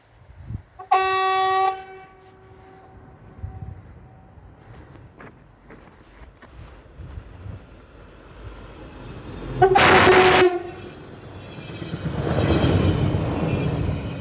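A new passenger train on the Lithuania to Tartu route passes close by. A short horn blast sounds early, then a second, louder horn blast comes, followed by a swelling rumble of the train rolling past.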